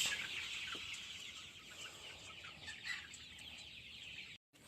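Chickens on a farm cluck and murmur steadily after feeding, a soft, continuous flock chatter with occasional louder calls, fairly quiet and without voices.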